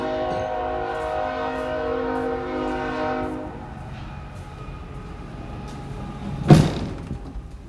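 Train horn sounding in long sustained tones over a rumbling passing train, the horn fading after a few seconds while the rail rumble continues, with a sharp bang or thud near the end.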